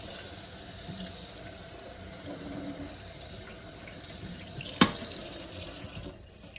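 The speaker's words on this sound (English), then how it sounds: "I'm going to rinse them again just a little bit" Beans for Louisiana red beans and rice rinsed under a running kitchen tap, a steady close stream splashing into the sink for several seconds, with a sharp knock near the end before the water cuts off.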